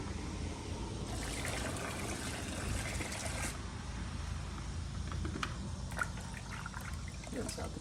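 Rinseless car wash concentrate pours steadily into a bucket of water, a continuous liquid trickle, followed by splashing as the measuring cap is rinsed out; a voice talks over parts of it.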